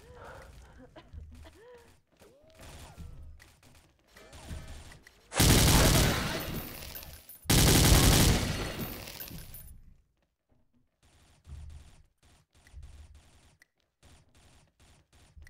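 Rapid bursts of gunfire and explosive blasts in two loud volleys from a first-person shooter game, heard through headphones, with quieter game sounds and faint talk around them.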